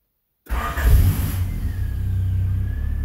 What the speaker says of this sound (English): Right now I'm gonna just turn on the car real quick.